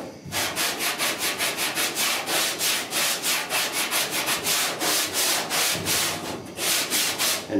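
Body filler on the dash of a 1966 Ford F100 gets block sanded with quick, even back-and-forth strokes, a loud rhythmic rasping of about two strokes a second, close up and steady with no talk.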